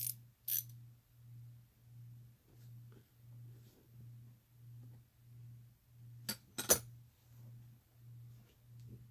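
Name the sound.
ratcheting wrench being handled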